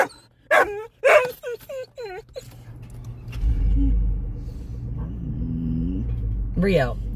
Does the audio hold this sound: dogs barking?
yes